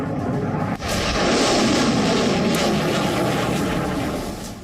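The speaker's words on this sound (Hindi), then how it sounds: "Pinaka rocket launcher" A Pinaka rocket launcher fires with a sharp blast near the start, followed by a loud, sustained roaring rush that slowly fades toward the end, with no talking.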